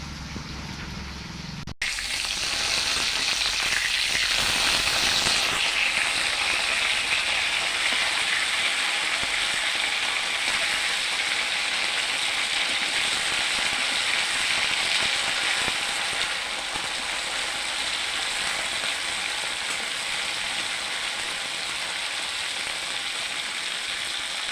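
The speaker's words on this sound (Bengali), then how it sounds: "আমার ভাজা হয়ে গেছে, এখন উঠাই নেব।" A fish head sizzles in a pan of hot oil, with a steady, close hiss that runs continuously after a sudden start and eases slightly toward the end, with no talking.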